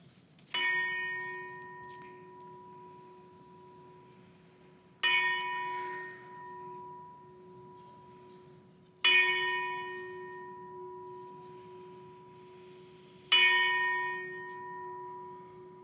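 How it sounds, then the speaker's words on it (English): A single church bell tolls four times at a slow, even pace, each clear stroke ringing out and fading in a long hum at the start of a Sunday service, with no voices over it. "let the bell and its tones lead you into your soul"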